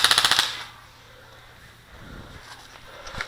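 Airsoft gun fires a fast rapid burst of sharp clicking pops during a capture-the-flag match, followed by quieter scattered snaps and pops farther off.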